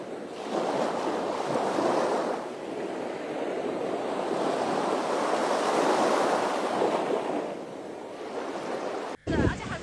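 Tidal waves surge on the Qiantang River in China, a loud continuous wash of churning water and wind buffeting the microphone, swelling and easing in broad waves before a brief cut near the end.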